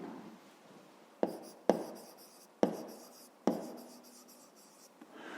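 Pen on paper writing by hand: four or five distinct taps and strokes, each followed by a short scratching trail, quiet and close in a still room.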